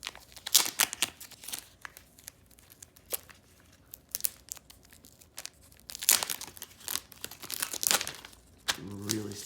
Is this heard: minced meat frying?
no